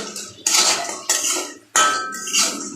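A metal ladle and spoons strike and clink against dishes in several sharp, bright, close clatters with short pauses between them.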